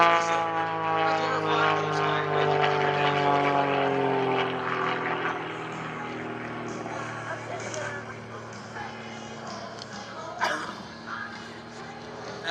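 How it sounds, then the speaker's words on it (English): An aerobatic airplane with an IO-360 four-cylinder, horizontally opposed, air-cooled fuel-injected engine droning overhead at an airshow, the propeller tone sliding downward as it passes and fades, while an announcer talks over it. "Now this is a 4-cylinder, horizontally posed, air-cooled engine."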